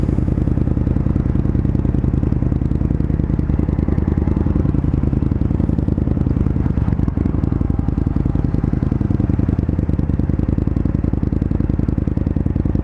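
The engine of an Indian FTR 1200S motorcycle drones steadily during a ride, a loud, constant low rumble with a fast pulsing throb and rushing wind, with no talking.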